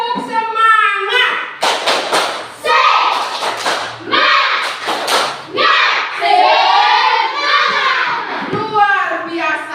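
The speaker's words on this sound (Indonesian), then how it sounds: "Tepuk semangat." A class of children performs a clapping routine: sharp bursts of claps in a rhythmic pattern, mixed with loud chanted voices of the children and a teacher.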